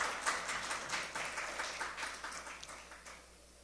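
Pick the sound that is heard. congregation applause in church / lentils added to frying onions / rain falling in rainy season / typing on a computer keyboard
congregation applause in church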